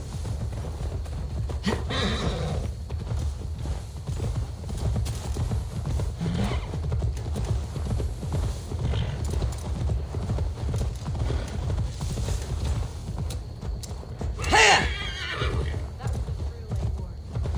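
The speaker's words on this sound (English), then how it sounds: "Now to deliver Magni his horse" Horse hooves clip-clop steadily with a horse neighing loudly near the start and again later in Assassin's Creed Valhalla, under a continuous game soundtrack and some talk.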